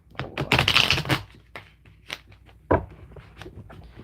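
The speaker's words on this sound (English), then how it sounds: "I'm gonna do one more shuffle, and I'm gonna cut this deck." Someone shuffles a deck of astrology cards by hand, making a dense burst of riffling clicks up close followed by scattered softer card taps and slides, with no talking.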